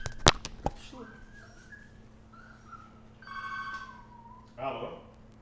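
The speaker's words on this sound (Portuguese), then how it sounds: "O pessoal tocando interfone aqui, do nada, né?" An intercom buzzes in a home during a trading analysis broadcast: a few electronic ringing tones in short bursts, fairly faint over a quiet room, with a sharp click near the start.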